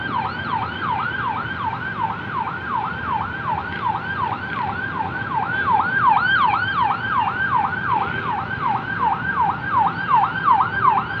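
A wailing emergency vehicle siren during Typhoon Paolo rises and falls in steady rapid cycles, growing louder midway as it nears, over constant heavy rain and road noise, with no talking.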